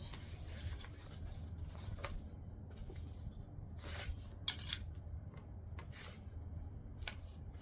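Scissors clip into a fabric seam beside a zipper, a series of soft, crisp snips at an irregular pace, close and fairly quiet against a low background hum.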